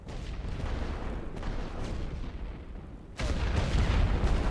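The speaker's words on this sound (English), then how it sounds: "This ability will provide a brief warning decal on the ground before the shells land" Artillery shells landing in The Great War, a World War I strategy video game, heard as a steady distant rumble of bombardment that jumps to a louder, harsher barrage near the end, with no talk.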